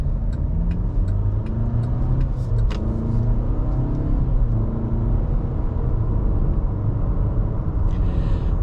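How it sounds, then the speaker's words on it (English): A 2023 Cadillac XT4 engine under gentle acceleration, heard as a steady low rumble from inside a well-insulated cabin, holding revs fairly high with an even, continuous drone throughout. "on slight acceleration, I've just been noticing here, it does keep the RPMs up nice and high"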